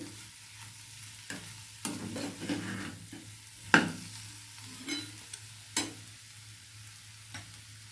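Potatoes and green chillies sautéing in a pan, heard as a series of distinct spatula scrapes and stirring strokes at irregular intervals over a low frying sizzle and a steady background hum.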